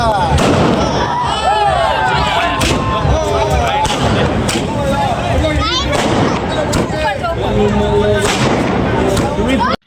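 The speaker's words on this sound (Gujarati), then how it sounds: "અંતમાં ફટાકડા ફોડ નાખ્યા" Firecrackers burst at an Uttarayan kite festival, loud repeated bangs and crackles close by, with voices and crowd noise throughout.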